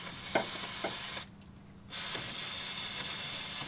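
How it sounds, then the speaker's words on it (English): A steady aerosol spray of degreaser hisses continuously onto Toyota engine pulleys, pauses for about half a second, then resumes and runs on, close and fairly loud. "We want to spray all the pulleys to get the grease off"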